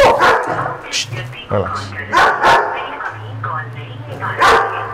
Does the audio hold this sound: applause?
no